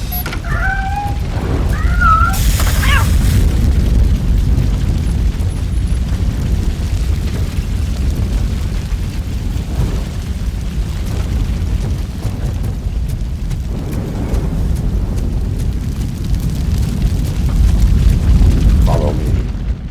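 Fire roars in the RoboCop: Rogue City video game as a loud, continuous low rumble with crackling bursts, joined by brief game sounds and voices.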